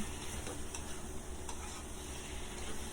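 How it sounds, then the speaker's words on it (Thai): Pork with chili and dark soy sauce being stir-fried in a pan, a steady close sizzle with the scrape and clatter of stirring running throughout, no voices. "ผัดคลุกเข้าให้เข้ากันค่ะ"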